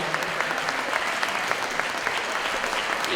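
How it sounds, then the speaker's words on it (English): A banquet audience for winter sports gives a round of applause, a dense, loud, steady burst of many hands clapping together that fills the whole moment with no one speaking over it. "You can clap for yourself"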